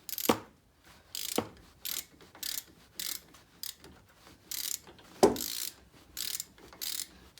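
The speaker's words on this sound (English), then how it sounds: "Literally walk it in with your ratchet." A hand ratchet threads a front brake caliper bolt on a 2008 Chrysler 300C, giving quiet bursts of rapid clicking pawl strokes with short pauses and a few sharper knocks between them.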